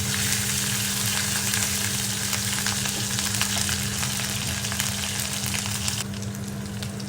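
Ivy gourd slices fry in a black kadai with ginger-garlic paste, a steady loud sizzle filling the whole stretch, close and continuous with no voices.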